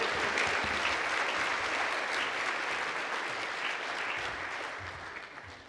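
Audience applause at a transportation and land-use summit session. Many hands clap in a dense, sustained burst that holds steady for several seconds and then slowly thins and fades out.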